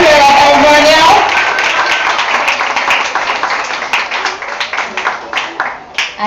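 Audience applause for graduates at an Alvernia Preparatory School graduation ceremony, a dense crowd clapping that starts under a loud voice, then continues alone and thins out into scattered claps.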